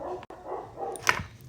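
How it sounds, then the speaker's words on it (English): A dog barks once or twice nearby indoors, a short sharp bark near the end that stands out over a low room hum and a faint steady background. "I thought my dog was done barking"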